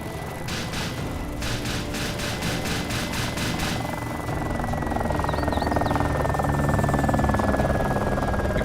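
Little Bird helicopter in the video game ARMA 2 DayZ, a steady rotor drone with rapid blade chop early on, growing slightly louder as it approaches and holding close and prominent throughout, with no talk.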